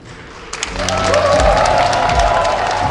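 An audience at a district conference breaks into applause, with crowd noise and some cheering. It starts after a quiet half second, then swells to a loud, sustained roar of clapping that fills the hall.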